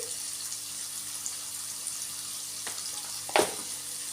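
Onions fry with salt and turmeric in a pan for an egg fry dish, giving a steady soft sizzle with a few faint clicks and one sharp clatter near the end, close and moderately quiet.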